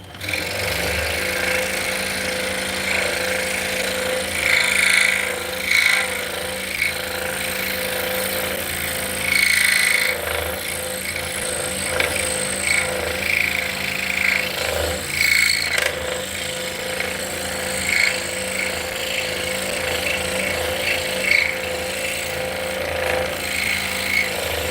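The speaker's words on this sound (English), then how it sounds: "So we are cutting 5/8 inch cherry today." A power tool cuts 5/8 inch cherry wood in a workshop, a continuous buzzing, grinding drone with repeated surges as the blade bites, loud and close throughout.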